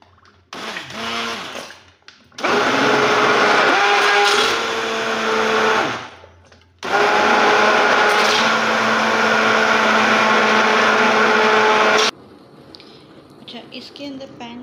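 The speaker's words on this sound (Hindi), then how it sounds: "अब बीटर का शोर होगा" An electric hand beater whirs through a bread halwa mixture in a bowl, running loud and steady in two long bursts separated by a short pause, with brief talk before it starts.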